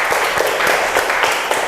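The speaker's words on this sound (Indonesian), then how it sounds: "kita beri aplaus dulu untuk penampilan kelompok 1" A classroom gives a short burst of applause for a group's presentation, many hands clapping at close range with a few sharper claps standing out.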